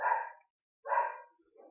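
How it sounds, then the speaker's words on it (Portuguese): A dog barks twice, loud and close, with a short gap between the two barks, followed by a softer, briefer yelp. "tem um cachorro latindo mesmo."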